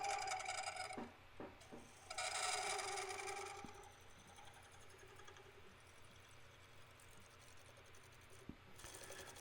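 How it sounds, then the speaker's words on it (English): Cherry burl bowl spinning on a wood lathe while a shear scraper shaves its cracked, grooved surface, giving a steady close rasping scrape in long passes with brief pauses and a faint motor hum beneath. "Shear scrape is perfect for this because it shaves away just a small amount of material"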